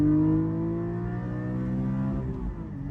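A Porsche 718 Cayman GT4 engine revs high and settles into a steady, throaty drone, fairly close, with no talking.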